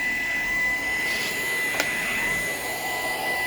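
A Shark PowerDetect vacuum cleaner runs in a kitchen, a steady loud whine with a constant high tone and a brief click near the middle.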